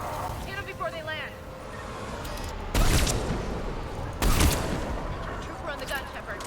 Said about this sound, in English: Trooper on the gun, Shepard.